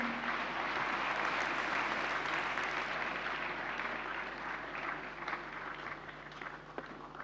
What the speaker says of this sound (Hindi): जोरदार तालियां एक बार फिर से।